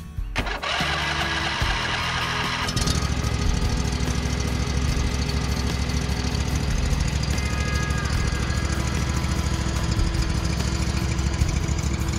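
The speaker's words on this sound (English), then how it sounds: "let's go ahead and fire up this mower and get ready to load" A lawn mower engine in a garage sputters, catches and starts, then settles into a loud, steady, close-up running chug that continues without pause.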